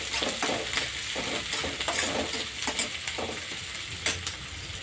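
Onions frying in a pan for a fenugreek-leaf dish with crushed peanuts, a steady close sizzle broken by repeated scraping stirs of a spatula.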